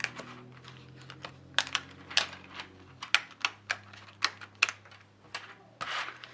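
Paper punch cutting holes through a clear cover and pages while a drawing journal is assembled: a string of sharp, crisp clicks and clacks at uneven intervals, close and fairly quiet over a faint low hum.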